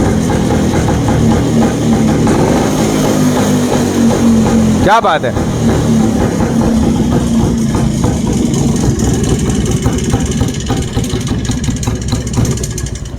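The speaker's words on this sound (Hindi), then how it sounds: "एक किक में ये बाइक स्टार्ट हो गया है" An old Rajdoot motorcycle idles after a single kick start, a loud, steady close-up thumping engine running throughout, with someone talking over it.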